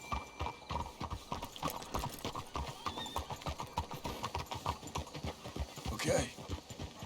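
Horses' hooves clip-clop steadily in Red Dead Redemption 2, a close and continuous rhythm of hoofbeats with a short whinny near the end and no talk.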